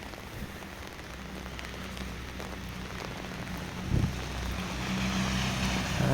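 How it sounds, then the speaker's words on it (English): Heavy winter rain falls on the streets of Medjugorje as a steady close hiss of drops on pavement, with a low engine-like hum underneath and a brief thud, the wash growing slightly louder toward the end. "this is Medjugorje in the rain"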